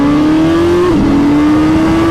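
A 2022 Suzuki Hayabusa motorcycle holds at 4,000 RPM for a drag strip launch, its engine a loud, close, steady drone that dips briefly and then climbs again.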